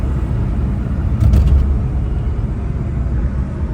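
Suzuki Alto 660cc small car cruising at 80 km/h, heard from inside as a steady low engine and road rumble with a brief swell of louder noise early on.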